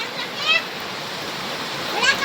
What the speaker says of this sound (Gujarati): તો વરસાદ શરૂ થઈ ગયો છે